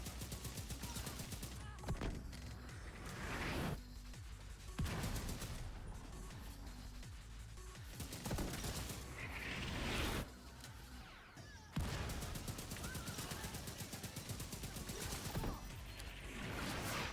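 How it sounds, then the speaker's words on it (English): Mortar fire in The Division 2 hits in repeated heavy, booming blasts spaced a few seconds apart, loud and close, with rattling gunfire and debris between the impacts. "Man, I hate the mortars in these missions."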